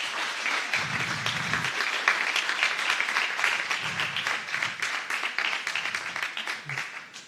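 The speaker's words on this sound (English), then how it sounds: "please get up and let's applaud for our colleagues." A conference audience applauds colleagues from a partnership network, a sustained roomful of clapping with a few brief low voices murmuring underneath before it tapers off at the end.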